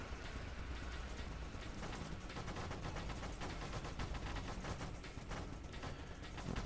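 Constant dense shooting from a ship firing at enemies in the arcade space shooter Nova Drift, a loud unbroken stream of rapid shots and impacts with no speech.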